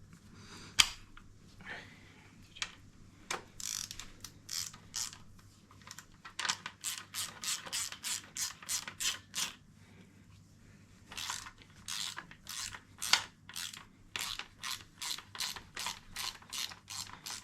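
A ratchet with a 13mm socket clicks rapidly as it screws bolts into a Class 2 Nova race engine, bursts of quick close pawl clicks in repeated strokes separated by short pauses, with no talk.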